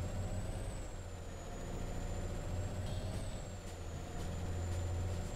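A heavy truck in the Alaskan Truck Simulator video game pulls off in first gear, its engine a loud, steady low drone with a thin high whine held over it throughout.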